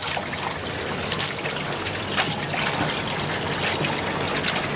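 Running water trickles and splashes steadily over pork intestines being rinsed by hand in a kitchen sink, a close, continuous wash with small irregular surges and no talking.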